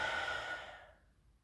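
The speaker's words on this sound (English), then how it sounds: "when we take a deep breath in" A single deep diaphragm breath, a close, soft airy exhale that trails off into quiet.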